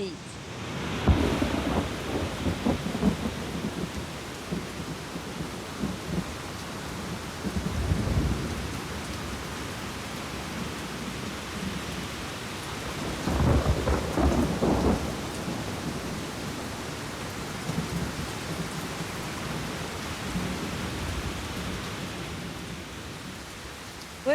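Steady heavy rain falls on a Hawaiian landscape during a thunderstorm, with rolling thunder swelling near the start, around eight seconds and again around fourteen seconds, all without any voices.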